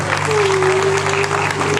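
Brief audience applause at a live performance: dense, steady clapping from a crowd, with a faint sustained tone running underneath.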